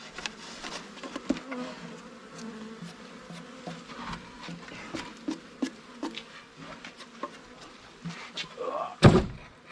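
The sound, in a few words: bees buzzing around a hive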